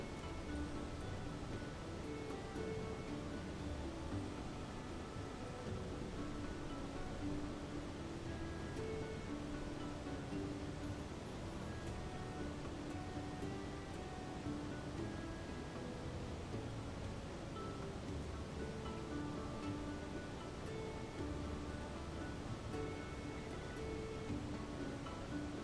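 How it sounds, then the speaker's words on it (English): A waterfall in Monster Hunter Stories roars as a dense, constant broadband rush that holds unchanged and fills the whole stretch, with no talk. "I'm just realizing how annoying that waterfall"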